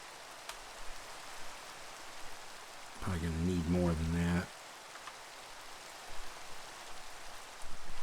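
Steady rain hisses across a blocky survival-crafting world in Crop Block, constant and close, while someone speaks briefly partway through.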